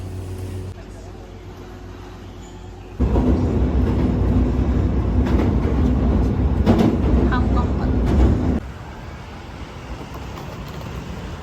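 A subway train running through a station in the Kansai area, heard as a steady low rumble that swells loudly for several seconds mid-clip and then falls back to a quieter background hum, with people talking over it.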